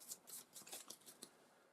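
A deck of cards for a board game being shuffled, in soft, quick riffling bursts that brush and rub against each other, faint and close over about two seconds.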